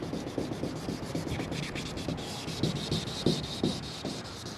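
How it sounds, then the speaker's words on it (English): Continuous rough scraping of sanding against the body panel of a Chevrolet Monte Carlo, with rhythmic strokes that rise and fall in loudness, close up and steady. "I get through sanding the whole entire car"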